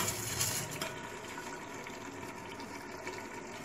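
Yakhni stock water poured into a pot of rice for chicken biryani, a steady splashing gush that is loudest at first and then settles into a softer trickle.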